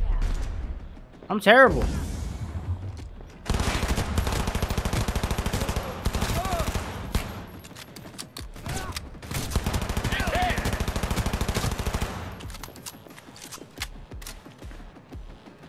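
Rapid automatic gunfire in Cyberpunk 2077, loud dense bursts sustained across most of the stretch with brief pauses, mixed with game sounds while someone talks over it.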